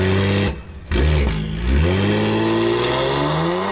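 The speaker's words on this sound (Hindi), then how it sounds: "रात के सन्नाटे को चीरती एक मोटर गाड़ी सहसा तेज गति से निकलती है" A motor car speeds away at night from a house on Elgin Road, staged as a radio drama effect: a loud engine revs and climbs in pitch, briefly dips, then roars steadily onward with no voices.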